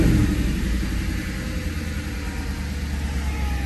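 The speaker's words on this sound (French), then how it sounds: "Donc là on va démarrer la petite R8" Audi R8 with a 4-litre V8 FSI engine, with a steady deep rumble close by, low and loud throughout with no clear surge; a start-up is not plainly marked.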